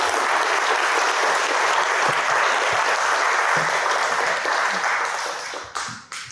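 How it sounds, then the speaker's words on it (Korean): A church audience welcomes a speaker with sustained applause, a dense steady clatter of many hands that tapers off at the end, with no talking over it. "나올 때 큰 박수로 환영하겠습니다"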